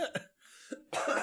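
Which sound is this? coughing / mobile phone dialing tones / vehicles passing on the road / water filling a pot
coughing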